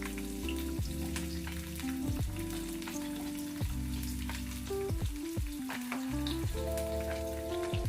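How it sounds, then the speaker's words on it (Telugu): Green chillies, capsicum and onion cubes fry in a pan for homemade Maggi manchurian, giving a continuous crackling sizzle under a loud, wavering hum, heard up close with no talking. "అన్నింటినీ ఒక 1/2 నిమిషము ఫ్రై చేసుకోవాలి"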